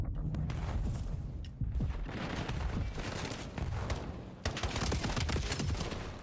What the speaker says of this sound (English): Clean pistol shots there.